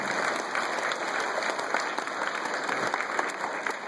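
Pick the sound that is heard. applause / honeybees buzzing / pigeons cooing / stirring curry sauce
applause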